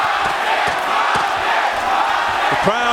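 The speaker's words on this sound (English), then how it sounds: "The crowd getting behind Marquez now." A boxing arena crowd roars and cheers steadily throughout the Israel Vazquez vs Rafael Marquez fight, a dense, loud wall of voices with shouts rising from within it.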